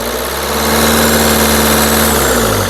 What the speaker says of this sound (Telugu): ఇంజన్ యొక్క నాయిస్ కూడా సైలెంట్గా అయితే ఉందండి